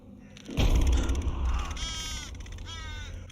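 Crows cawing in a tense scene from the horror film The Nun, a sudden thud followed by several loud harsh caws in quick succession, close and dramatic.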